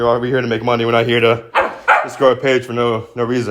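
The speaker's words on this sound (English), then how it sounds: "So sorry if that's my dog in the background." A pet dog barks a few times in the background of a room while a person talks continuously over it.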